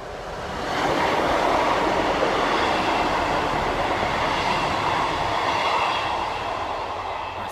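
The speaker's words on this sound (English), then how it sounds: "And train going by." A train rumbles past nearby, a broad steady roar that swells in after a second, holds, then slowly fades toward the end.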